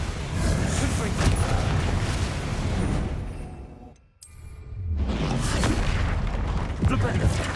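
A Confringo spell blast goes off in Hogwarts Legacy as a dense, roaring burst of booms and whooshes. It breaks off into a brief lull, then another loud surge of explosive noise follows, with a voice talking over the action.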